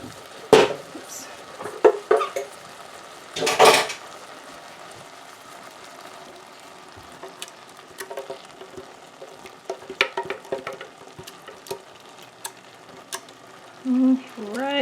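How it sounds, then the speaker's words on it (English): A spoon stirs a sizzling tomato mixture in a pot: clattering scrapes against the pot come in bursts, most strongly near the start, over a low background sizzle, then softer stirring and a few clinks, with no voices. "so now we're going to stir that around a bit, and we're going to let that reduce"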